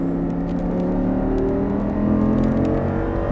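An Audi R8 engine hums steadily and builds slightly as throttle is applied on a driving course, a continuous close drone without speech.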